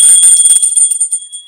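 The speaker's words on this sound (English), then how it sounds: "I'm sending you a little bell." A small bell for space clearing rings once and sustains a clear, bright metallic tone that slowly fades while soft handling taps sound near the start, with no voices.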